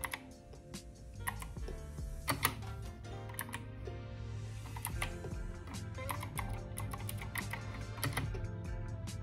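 An SK61 60% mechanical keyboard with Gateron optical blue switches clacks under a steady stream of close, crisp keypresses, sharp clicky taps arriving in quick irregular bursts over a faint background hum.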